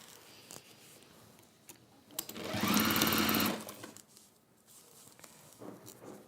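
A sewing machine stitches a seam on fabric in one steady whirring burst of about a second and a half, with quiet handling sounds before and after.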